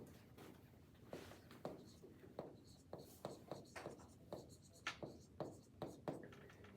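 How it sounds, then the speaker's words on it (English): Pen or pencil writing notes by hand during an algebra test review, a run of short scratching strokes in an uneven rhythm, close and clear, with faint room noise between them. "down here at the bottom, I'm gonna write some notes"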